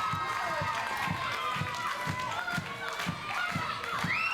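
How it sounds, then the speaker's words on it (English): A wrestling arena crowd at a live W3L show claps along in a steady rhythmic beat under the general roar of the audience. "The crowd clapping along."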